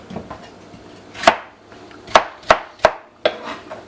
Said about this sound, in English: So these are Idaho potatoes. They're peeled already, and we're going to just cut them up.